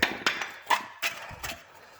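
A big hammer strikes several times at a 2004 Toyota Prius wheel bearing during repair, giving five sharp metallic whacks at an uneven rhythm, up close and loud with no talking.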